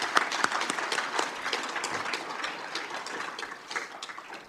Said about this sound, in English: So I would like to give them a round of applause for those achievements.